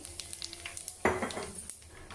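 Mustard seeds and cumin sizzle faintly in hot oil for a pickle tempering, with small pops, light spoon clinks and one sharper clatter against the pan, no talking.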